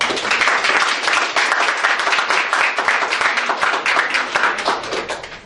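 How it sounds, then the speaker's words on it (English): An audience claps in a dense, sustained round of applause at an indoor event, loud and close, holding steady for several seconds before starting to thin at the end. "Let's give them a great round of applause."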